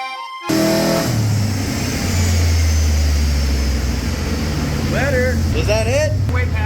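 A car engine on a dyno is revved hard to about 5,000 RPM, a loud sustained roar that climbs and holds near the mic, with brief voices toward the end.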